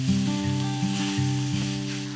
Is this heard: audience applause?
no